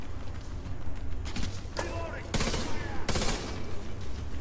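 Gunfire in the Division 2 video game hits an armored enemy, with bursts of rapid automatic shots and sharp impacts over game ambience, while a voice talks throughout.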